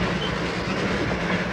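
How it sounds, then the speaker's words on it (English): Himalayan toy train with a B-class engine running on narrow-gauge rails in India, heard as a loud, close, continuous rumble with rhythmic clickety-clack of wheels over track joints. "For Mike Sato, a special little train, as befits a specialist"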